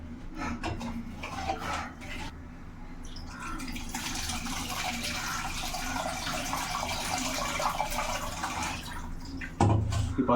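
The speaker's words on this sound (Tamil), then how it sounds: "நம்ம வந்து கரைச்சி வச்சுருக்க புளி தண்ணி ஊற்றிக்க வேண்டியதான்" Tamarind water poured into a cooking pot while making crab rasam, a steady splashing trickle of liquid lasting several seconds, close and moderately loud, with a brief clatter of the pot at the end.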